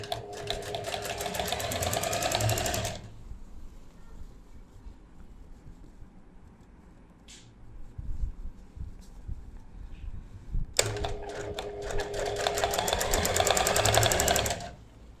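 A sewing machine stitches a shirt sleeve in two loud, steady whirring bursts, one at the start and one near the end, with quiet handling and rustling of fabric between them.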